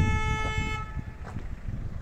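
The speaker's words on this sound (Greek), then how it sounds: "εδώ ο Γιώργος μου κορνάρει" A car horn gives one sustained honk of just under a second near the AEK stadium site in Agia Sophia, Greece, followed by low traffic and engine rumble.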